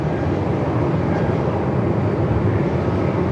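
A Qantas jet lands at Melbourne Airport in strong 45-knot wind, a broad, constant rumbling engine and wind roar that stays steady and fairly loud throughout.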